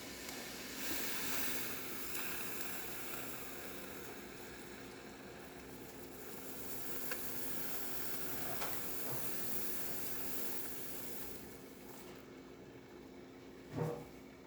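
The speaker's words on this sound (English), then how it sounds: "Go ahead and test the steam." The steam wand of a freshly serviced La Pavoni espresso machine hisses in a broad, steady rush that holds for many seconds, fairly close, with a short sharp spurt near the end.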